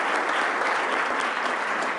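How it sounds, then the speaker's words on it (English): A room full of people at a business meeting claps steadily, with dense, sustained applause that stays loud and even from start to finish, with no pause. "give them a round of applause."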